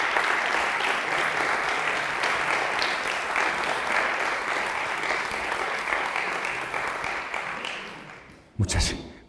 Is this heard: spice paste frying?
no